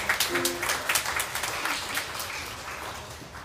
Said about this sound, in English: Let us kindly welcome our visitors with a warm round of applause